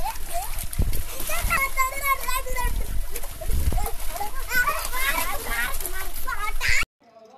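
Children jumping and swimming in a half-cut water tank used as a pool, with splashes under lively children's shouting and chatter, close by, ending abruptly.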